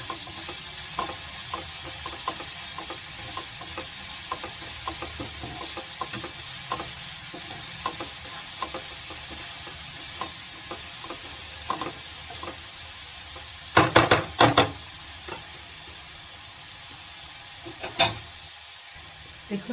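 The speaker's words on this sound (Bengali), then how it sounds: "একটু লাল লাল করে ভাজবো খালি।" Prawns fry in a pan over a continuous soft sizzle, with light rhythmic scrapes of stirring throughout and a short cluster of louder clattering stirs near the end.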